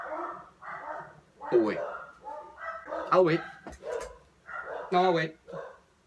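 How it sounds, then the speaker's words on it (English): A dog barks and yips in a string of short, close, loud calls with whimpering sounds between them, while a person speaks briefly in between. "Dog, stop with the dog noises."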